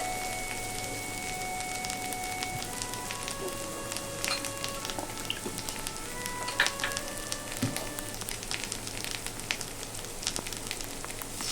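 Onion and garlic paste frying in a pan while being stirred, a soft continuous sizzle with scattered light crackles and occasional clinks of a utensil, faint and steady with no talking.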